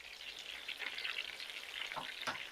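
Thick tomato-style sauce with pork and beef meatballs bubbling and sizzling vigorously in a pan, with a steady busy crackle and occasional louder pops, heard up close.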